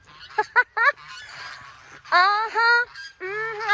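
Geese honk close by in short bursts, then in longer, louder nasal calls.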